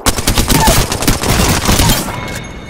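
Rapid gunfire in the shooter game Apex Legends, loud, dense bursts of shots close up for about two seconds before trailing off.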